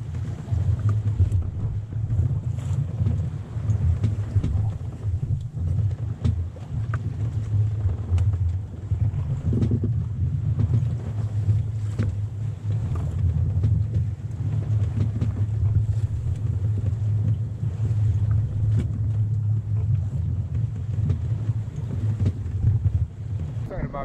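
Wind buffets a sailboat on the Baltic Sea as a continuous low roar with water rush beneath, steady and close for the whole stretch, with faint voices now and then.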